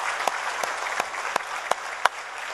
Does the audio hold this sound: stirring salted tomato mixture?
no